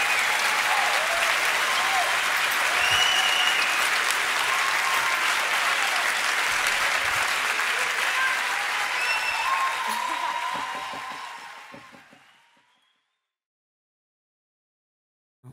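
Audience applause at a concert, a dense and loud wash of clapping hands that holds steady for about ten seconds and then fades out to silence.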